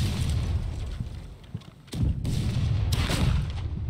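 A grenade explodes in the pirate ship battle game BlackWake, a sharp broadband blast that cuts through a dense, rumbling background of combat noise, with further booms trailing shortly after.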